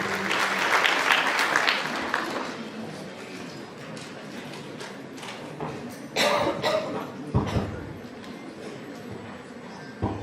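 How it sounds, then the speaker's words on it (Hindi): Audience applause at a Republic Day university function in Raipur, loud clapping that swells early, thins to a lighter patter, then rises in a few brief bursts near the end. "एक बार जोरदार तालियां हो जाए हमारे सर के लिए"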